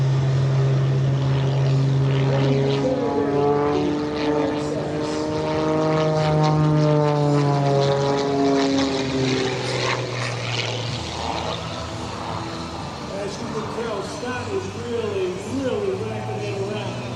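A 355-horsepower aerobatic propeller airplane performs a hard routine at an airshow, its engine droning loudly with a rising and falling pitch as it climbs and turns overhead.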